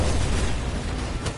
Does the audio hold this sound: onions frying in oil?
no